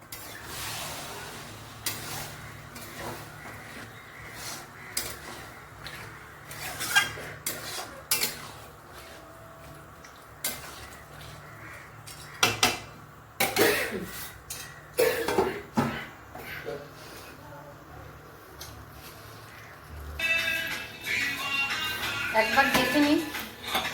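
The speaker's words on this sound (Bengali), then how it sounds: "এখন আমি হালকা একটু জল দিয়ে নেড়ে হালকা একটু ঢেকে দিব" Spoon stirring a Bengali fish curry (morola fish tok) with a splash of water in an iron kadai, scattered clinks and scrapes against the pan at close range, with a few coughs and low background noise.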